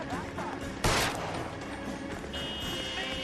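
A single sharp gunshot in the 1940s Los Angeles detective game LA Noire, loud and close, cutting through a steady background of game ambience.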